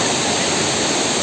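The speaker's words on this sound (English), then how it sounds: "peak of this waterfall lies from there and the flow is quite very high" A waterfall with high water flow thunders in a constant, loud, dense roar of rushing water, close and steady, with no voices.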